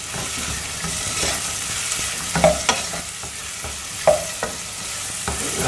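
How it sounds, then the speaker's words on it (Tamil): Tomatoes sautéing on a tawa for tawa rice, with a steady sizzle under a few distinct scraping stirs of a spatula against the pan, close and fairly loud, no voices. "அதனால நம்ம இப்போ வதக்கணும்ல, இது போதும்."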